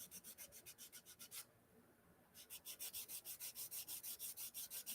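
A briar pipe is sanded by hand with 400 grit sandpaper in quick, even back-and-forth strokes, close and soft, pausing for about a second before the rhythmic rubbing resumes.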